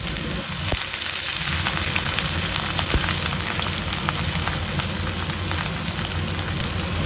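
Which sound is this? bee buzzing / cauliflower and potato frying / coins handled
cauliflower and potato frying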